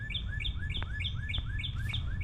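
A bird sings in an arboretum of natural trees, repeating a bright chirping phrase about every half second in a quick, steady series over a low, constant outdoor rumble.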